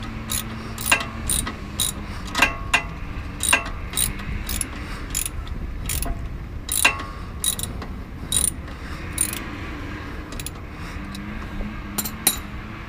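A wrench ratchets as a sway bar bolt is tightened, with sharp clicking bursts repeating in irregular short runs, close and clear with only faint background hum and no talk.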